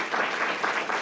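Applause for a graduating high school senior honored at a board meeting, a brief steady wash of clapping from a seated audience filling the room.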